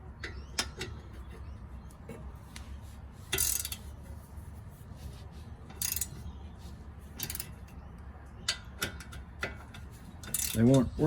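Ratchet tightening a bolt on the rear brakes of an Alfa Romeo Giulietta, heard as scattered short clicking bursts over a low background rumble, with a louder burst of clicks near the end.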